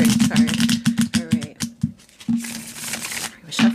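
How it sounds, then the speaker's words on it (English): Tarot oracle cards are shuffled by hand, a rapid series of crisp riffling flicks and taps in close succession, with a brief pause before the shuffling resumes. "Shuffling Portal Oracle."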